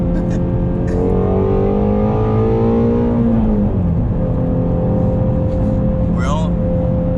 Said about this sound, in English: Whoops. Bad downshift.